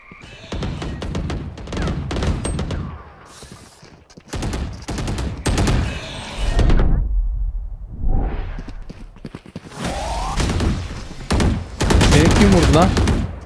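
Rapid bursts of gunfire from a shooter video game, repeated automatic volleys and single shots across the whole stretch, loud and close, with brief pauses and players talking over the action.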